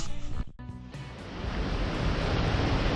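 Rushing water from many small waterfalls pouring down hillside paths after about 100 mm of rain, a steady broadband roar that swells and holds loud after a brief dip, with no voices.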